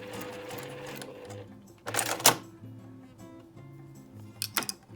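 A sewing machine stitching a patchwork flying geese block, with a soft mechanical whir broken by a few louder rattling bursts of stitching, close by and without speech.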